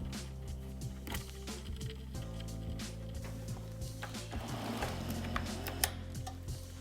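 A homemade parts tumbler machine runs with a steady low motor drone and a rhythmic rumbling, ticking churn of tumbling contents, close by and continuous, with no voices.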